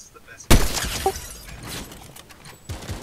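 A sharp, loud burst of gunfire rings out in a shooter video game, a single cracking impact followed by a few fainter shots, with players talking excitedly throughout.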